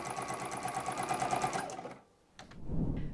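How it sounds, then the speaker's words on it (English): A home sewing machine stitches fabric tote straps, starting with a brief backstitch before sewing straight down the strap. The rapid, steady needle chatter runs close and loud for about two seconds, then stops, followed by a short clunk and low handling noise. "I'm going to do a little back stitch here at the beginning, and then I am going to sew all the way down"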